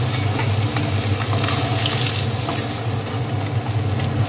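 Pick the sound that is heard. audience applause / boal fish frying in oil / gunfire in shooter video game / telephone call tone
boal fish frying in oil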